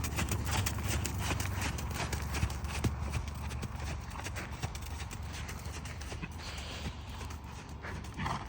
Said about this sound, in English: Do a couple of those changes to the right and then have a canter.